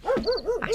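Dogs bark at night in a village, giving a quick run of about four short, arching yips close by.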